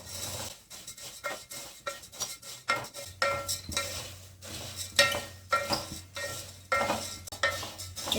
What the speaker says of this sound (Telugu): ఇప్పుడు ఇవి ఇలా వచ్చిన వరకు మనం ఫ్రై చేసుకోవాలండి.